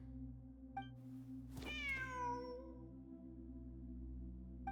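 A cat in the video game Genshin Impact gives one clear, drawn-out meow with a falling pitch near the middle, with faint short chirps before and after over a steady game hum.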